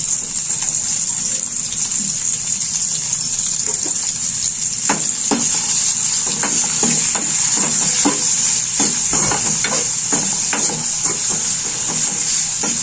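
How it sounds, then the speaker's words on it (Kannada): Chopped tomato fries loudly in a pan for a potato dish, a constant close sizzle with repeated scraping stirs from a spoon running through it. "ಟೊಮೆಟೊ ಹಣ್ಣೇನು ಹೆಚ್ಕೊಂಡಿದ್ದಲ್ರಿ ಆ ಟೊಮೆಟೊ ಹಣ್ಣನ್ನು ಹಾಕ್ಕೊಳ್ತೀನಿ"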